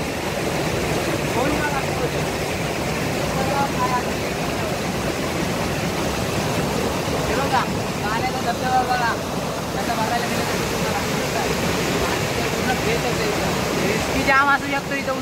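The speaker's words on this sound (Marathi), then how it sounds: "हा बघा ह्याला बोलतात धबधबा." Main waterfall in a jungle with very strong water flow, a loud continuous broadband roar of rushing water up close, with faint voices in the background.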